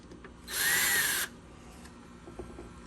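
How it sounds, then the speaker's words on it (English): A Ryobi power drill runs in one loud, steady burst of about a second while dismantling a shelf, then stops, leaving a quiet room with faint handling noises. "These Ryobi drills I've had for a while too."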